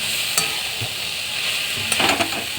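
Banana flower sautéed with ground spice paste in a pan, a loud, continuous sizzle with a few quick scraping stirs and clinks near the end.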